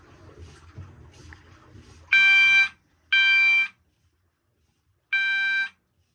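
A fire alarm detector triggered with a magnet during a system test sounds three loud electronic alarm blasts, each about half a second long, separated by short silences, following a stretch of quiet low background noise.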